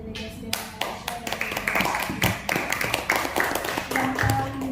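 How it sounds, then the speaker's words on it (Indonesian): Applause for the Malaysia delegation at a model ASEAN summit meeting; many hands clap in a dense, sustained patter from a nearby audience, with occasional faint voices underneath. "mari kita berikan tepuk tangan terlebih dahulu kepada delegasi dari Malaysia"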